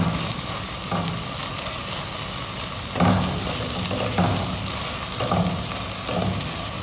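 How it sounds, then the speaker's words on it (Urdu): Garlic-ginger paste frying with onions in a pan gives a steady close sizzle, with a few louder stirring scrapes about every second or two and no talking. "اب پیسٹ ڈال کے میں تھوڑا سا فرائی کروں گی تاکہ تھوڑا سا اس کا کچا پن دور ہو جائے"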